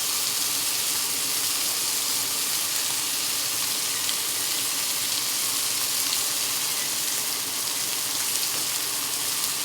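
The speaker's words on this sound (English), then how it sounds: "Let's let this end sear for 2 minutes." The end of a porterhouse steak sears on a griddle top, giving a dense, even hiss of sizzling fat that stays constant and fairly loud throughout, with no speech.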